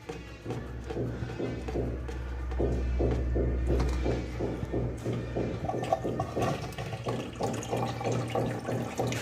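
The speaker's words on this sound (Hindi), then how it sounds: "तो ये पानी आ रहा है," Water rushes into a wall-hung toilet cistern as it refills, starting with a steady filling hiss and hum, then settling into rhythmic gurgling pulses of flow, close and alone with no talk.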